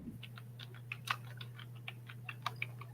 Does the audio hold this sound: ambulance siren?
no